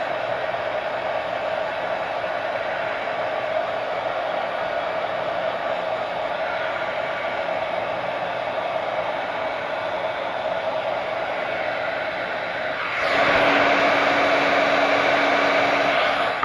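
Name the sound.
hair dryer drying paint on a windmill sign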